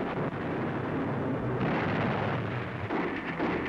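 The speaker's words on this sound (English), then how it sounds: "Protected by cannon fire" Continuous rumbling booms of heavy US artillery fire on a battlefield in Germany, dense and loud, like cannons firing repeatedly over a low roar.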